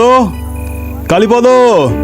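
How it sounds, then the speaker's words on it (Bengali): Crickets chirp at night in a jungle setting, a steady faint insect trill running beneath a man calling out loudly over it. "চারিদিকে তখন নিস্তব্ধ আর ঝিঝি পোকার ডাক শোনা যাচ্ছে"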